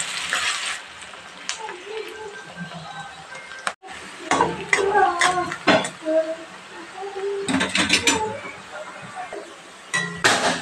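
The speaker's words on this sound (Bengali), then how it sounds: "এবার সবগুলো উপকরণ একসঙ্গে ভালোভাবে ভেজে নিতে হবে।" Chopped onion and other ingredients sizzle and fry in hot oil for a Bengali khoira fish chorchori, stirred with sharp metallic clangs of a spatula against the pan. A voice talks between the stirring bursts.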